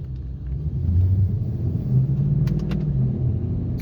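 A 2018 Ford Mustang with a stock cold air intake runs on a dyno, its engine producing a deep, loud, rumbling drone that rises slightly in pitch, with no talking over it.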